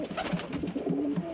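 A large pigeon gives low, soft coos in a quick rolling series, close by and fairly quiet, with no talking.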